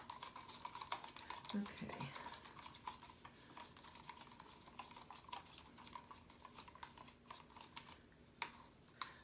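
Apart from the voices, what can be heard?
stirring a paint and silicone mixture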